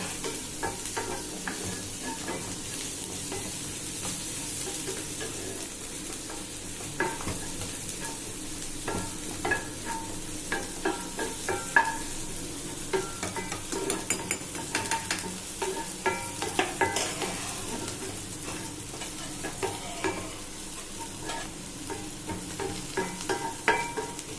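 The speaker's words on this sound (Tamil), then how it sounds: "வெங்காயம் நல்லா இப்போ ப்ரௌன் கலரில் ஆகிற வரைக்கும் நம்ம கொஞ்ச நேரம் வெயிட் பண்ணுவோம்" Onions sautéing in a pan until brown, for a Trichy-style dried fish thokku, with a steady sizzle and repeated scraping stirs of a spoon against the pan throughout, close and fairly loud, with no talking.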